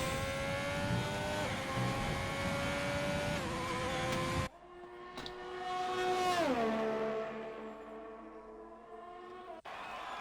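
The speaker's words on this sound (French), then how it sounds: "Ferrari qui va arriver dans le dernier virage" A Ferrari race car engine roars past at high revs, pitch sweeping down as it goes by, then a cut to another car approaching and passing with a sharp Doppler drop, likely a racing video game at the Italian circuit.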